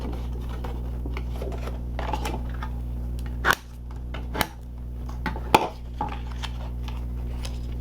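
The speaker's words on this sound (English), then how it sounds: "take our inside tab piece and fold and burnish those score lines" Card paper is folded along score lines and burnished on a work surface: soft rustles and light scraping strokes, punctuated by a few sharp taps and creases, close and fairly quiet.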